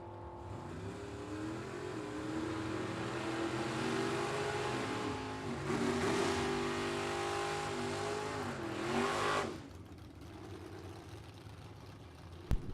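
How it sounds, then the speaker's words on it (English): Drag racing engines from a Buick Regal and a Ford Mustang roar at a distant strip, a sustained layered drone with rising revs that cuts off near the end, leaving quieter track ambience. "Albright on the right-hand side, a beautiful Ford Mustang out of Montgomery, Illinois."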